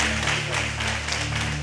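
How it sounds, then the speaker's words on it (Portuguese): Congregation in a church applauding together, a steady wash of many hands clapping that fills the short moment, with a sustained hum from the sound system underneath. "Dá um aplauso lindo para Jesus."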